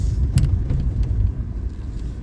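A car rolls along city roads in Dnipro with a low, continuous rumble of engine and tyres, close and steady, with a few faint clicks and no speech.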